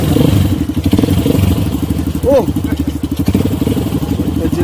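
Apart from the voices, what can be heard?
motorcycle engine running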